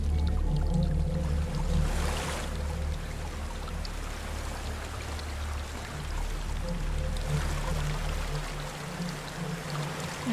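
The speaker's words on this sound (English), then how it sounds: "There's a waterfall." A waterfall in the video game Hellblade rushes with a dense, steady roar of flowing water, with low rumbling and broad hiss that ebb slightly but never stop, alone without any voices.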